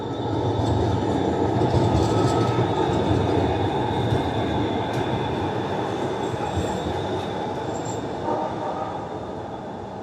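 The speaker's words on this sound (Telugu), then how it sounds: "one more metro." A metro train in downtown Houston runs loudly past, steady heavy rumble with wheel squeal and rattling throughout, tapering off slightly toward the end.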